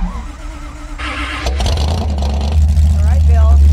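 A Hemi-powered 1934 Ford Coupe hot rod engine firing up, a loud low rumble that builds and settles into a heavy idle, with people talking over it.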